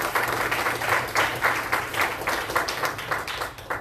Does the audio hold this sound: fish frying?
no